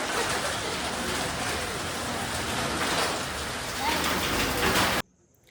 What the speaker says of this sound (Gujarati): જો વરસાદ આવવા માંડ્યો હે